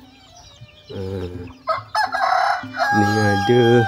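Chickens cluck and a rooster crows at a village chicken coop on Jemaja island, loud and close, with someone briefly talking.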